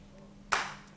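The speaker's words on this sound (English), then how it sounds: "Kyle, let me hear your loudest clap." A single sharp, loud hand clap serves as a timing signal at an arts festival, sounding once in a quiet room and decaying quickly.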